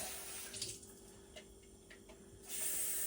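Water runs steadily from a kitchen tap during sauce preparation, a continuous hiss and splash that swells louder near the end, with no talking.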